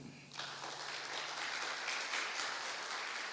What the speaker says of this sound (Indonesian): Yang setuju tepuk tangan bagi Tuhan.